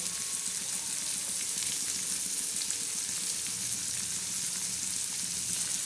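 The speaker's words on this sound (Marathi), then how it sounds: "बघाशी चांगला तडका द्यायचा" Tadka sizzling in hot oil for a Maharashtrian usal curry, a steady close-up frying hiss with crackle running unbroken throughout, no talk over it.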